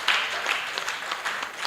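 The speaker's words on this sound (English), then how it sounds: "Let's give them another round of applause" Audience applause at a women human rights defenders' conference: a short burst of dense clapping from a crowd, steady and moderately loud.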